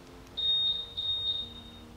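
A single electronic chirp from an All New Honda Scoopy scooter alarm, split into two close high tones in about a second, sounding clearly above a quiet, low background hum.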